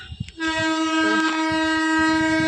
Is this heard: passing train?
yes